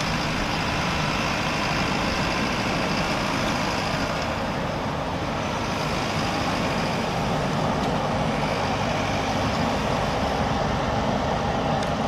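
A truck carrying a chair swing ride arrives at a village funfair in Schermerhorn, its engine a steady, loud diesel rumble with road noise throughout, no talk over it.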